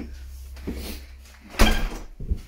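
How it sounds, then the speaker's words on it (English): A front door in a house under renovation swings shut with a firm thud, followed by a brief rattle and softer knocks, close by against a low background. "Let's close the door because it's quite noisy."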